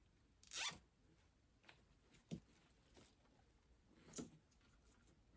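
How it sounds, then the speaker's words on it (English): A plastic zip tie is ratcheted tight while making a Dollar Tree fall front-door garland, giving a few quick, quiet zipping bursts spaced apart in a near-silent room. "I'm just going to attach a zip tie to hold them together"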